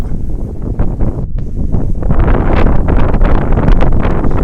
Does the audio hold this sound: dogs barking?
no